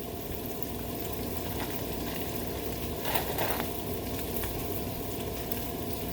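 Sausage frying in a pan: a steady, dense sizzle and crackle close by, continuous throughout with a brief louder spit of fat midway.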